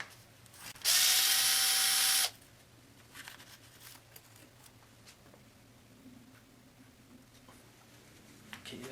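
A powered ratchet spins for about a second and a half, loud and close, while removing bolts from a 1979 Triumph Spitfire during timing chain and camshaft work. Quieter shop clinks and handling noises follow.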